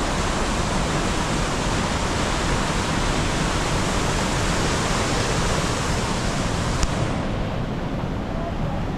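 The waterfall at Johnston Canyon in Banff, Alberta pours in a dense, loud, unbroken roar that fills the whole clip at close range.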